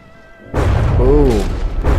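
Cannons fire in a Brawlership ship battle game, a sudden deep booming blast that holds as a loud rumbling roar, then a second burst at the end, with a commentator's voice briefly over it.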